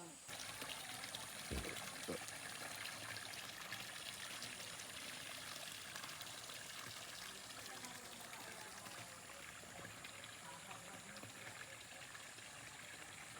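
Spring water pours and trickles steadily nearby in a continuous gentle stream, with a faint knock early on and voices murmuring softly underneath.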